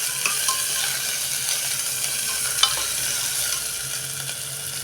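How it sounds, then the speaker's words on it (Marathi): Crushed ginger and garlic fry in hot oil for a spicy rice dish, a loud, steady close-up sizzle with a few faint spoon clicks and one sharper tap. "आता टाकूया हे ठेचलेलं आलं लसूण."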